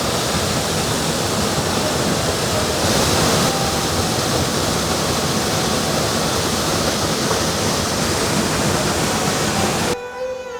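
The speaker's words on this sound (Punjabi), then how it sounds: "ਇੱਥੇ ਆ ਕੇ ਝਰਨਾ ਡਿੱਗਦਾ ਆ" A waterfall at Goa Gajah temple in Bali roars in a loud, steady rush of falling water, constant throughout, with a brief change in tone near the end.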